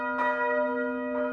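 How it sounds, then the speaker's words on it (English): A church bell from the old ring at St Mary's strikes twice, each clear metallic stroke ringing out and fading, with the second blow softer, over a steady sustained hum. "Mark from White's was able to demonstrate the sound of the bells"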